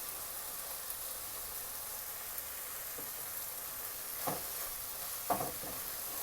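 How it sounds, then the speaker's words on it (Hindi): Masala with finely chopped green chilies and chili sauce sizzles in a pan for fried chicken masala, a steady close frying hiss broken by a few soft spoon stirs and scrapes, no voices. "और इसको अच्छी तरह मिक्स कर लेंगे।"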